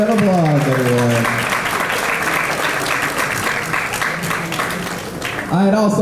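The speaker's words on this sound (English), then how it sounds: "Let's give them a round of applause, everyone." At a homecoming donors banquet, an audience applauds steadily for several seconds while a speaker's voice is heard at the start and end.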